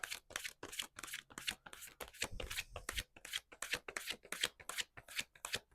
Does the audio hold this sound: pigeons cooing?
no